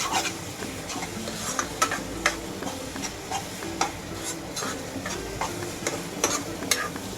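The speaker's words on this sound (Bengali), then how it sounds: "পেঁয়াজ কলি কেটে রেখেছি সেগুলো আমি দিয়ে দেব দিয়ে আবারও ভালোভাবে মেশাবো" Brinjal cooking in a pan with spices and chopped spring onions, stirred with repeated soft scraping and clinking strokes over a low sizzle, fairly quiet and close.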